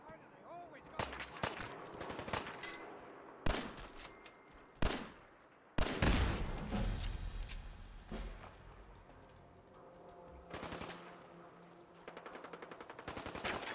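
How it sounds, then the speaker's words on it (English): Gunfire in the post-apocalyptic shooter Fallout 4: bursts of rapid shots and sharp single cracks spread across a city firefight, some loud and close, others trailing off amid ambient game sound. "Why are we getting shot at? Where are we getting shot at from?"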